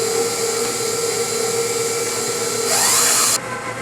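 An electric mixer creams butter, sugar, egg and vanilla, giving a steady, close motor whine that holds for several seconds, then rises in pitch and loudness before easing back near the end.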